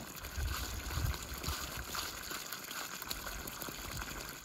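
Water flowing and gushing through a thawed septic tank pump-out line, a steady watery rush with some low gurgling bursts, continuous and fairly faint throughout.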